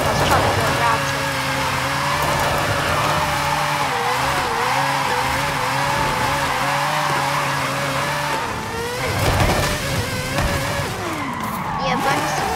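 A sleeper car drifting in Forza Horizon 5, with a steady engine drone under long wavering tire squeals that rise and bend as the car slides, loud and continuous, with talking over it.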